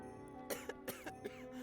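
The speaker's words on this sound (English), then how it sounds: "As you spoke, a sudden fit of coughing seized him" A character coughs in a sudden fit in the horror game Hydrangea, four or five harsh, rasping coughs in quick succession over a quiet, sustained tonal music bed, close and fairly soft overall.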